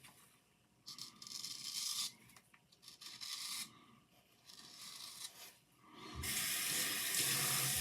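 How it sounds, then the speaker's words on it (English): Straight razor scraping stubble during a wet shave, heard as close, rasping scratchy strokes in bursts separated by brief pauses, ending in a sustained louder scrape, with no talking. "Hear that wonderful scratching noise? Means you're effective. You're getting it off."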